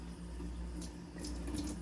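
Tablespoons of water pour from a tap or spoon into a small bowl of flax meal for a flax egg, a steady close trickle lasting a couple of seconds with no talk.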